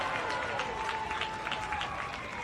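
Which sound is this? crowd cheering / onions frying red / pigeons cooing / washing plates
crowd cheering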